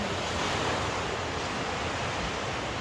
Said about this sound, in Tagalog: Ang ganda ng karagatan.